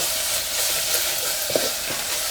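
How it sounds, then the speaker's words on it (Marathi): Spices, turmeric and potatoes sauté in an oil-filled pan for a puri bhaji, giving a steady close sizzle with a few soft stirring scrapes and no talking. "आहे ना परतून घ्यायचं आहे सगळं मसाला वगैरे सगळं मिळून"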